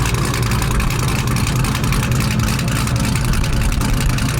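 Chevrolet Camaro exhaust idling with its valves in track mode, a loud, steady low rumble that holds evenly throughout without revs.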